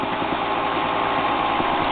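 A dirt bike engine running loud and close with a dense steady drone and faint rhythmic pulsing, never dropping away.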